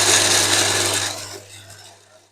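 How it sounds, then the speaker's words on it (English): Pine nuts and salt whir in a food processor, a loud, harsh grinding that fades steadily over about two seconds as the machine winds down, with no talk. "with the grinding process of the pine nuts."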